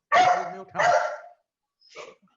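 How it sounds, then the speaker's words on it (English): A dog barks twice in quick succession, close and fairly loud, then gives a softer third yelp after a brief pause, heard in the background of an online lecture. "Somebody's got a nice dog."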